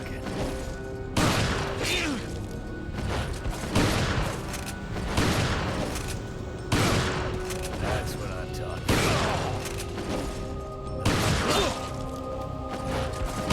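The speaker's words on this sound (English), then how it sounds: "You're missing me, so I'm just gonna keep shooting." Repeated gunshots fired in the PS4 game Resident Evil 4, sharp bursts recurring every second or two over a steady game backdrop, with tonal music or ambience and some voice activity underneath.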